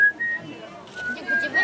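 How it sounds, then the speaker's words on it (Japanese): Someone whistles a short, thin melody, broken into a few held notes with brief gaps, fairly close and soft, at a 2011 winter festival in Akaoka, Japan. "口笛もできる。"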